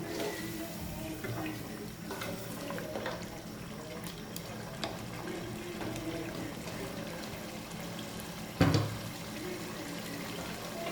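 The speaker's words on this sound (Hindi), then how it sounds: "अब हम थोड़ा सा पानी डाल देंगे ताकि हमारे आलू गल जाए।" Water is poured into a pot of aloo gosht after the meat has been browned, a steady liquid trickle and stir with one sharp splash near the end, with no talking.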